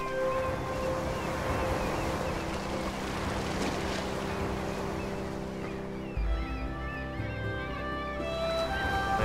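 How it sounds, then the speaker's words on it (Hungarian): Steady rushing water wave in the puzzle-platformer Unravel, a broad washing roar that holds evenly throughout with tonal game music layered underneath. "megvárjuk, elmegy a víz"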